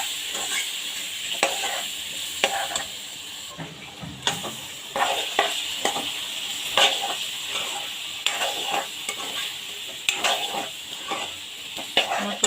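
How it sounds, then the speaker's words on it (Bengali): Spices sautéed with fish head and potato in a Bengali curry: loud, continuous hissing sizzle close up, punctuated by frequent rhythmic spatula scrapes and clanks against the pan, no speech. "মশলাটা কষানো হয়ে গেছে।"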